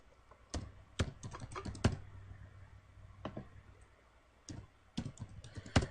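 Someone types a password on a computer keyboard, a sparse series of close, quiet key clicks in short irregular bursts with pauses between.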